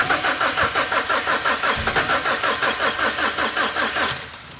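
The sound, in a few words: BMW 1 Series E88 N43 petrol engine cranking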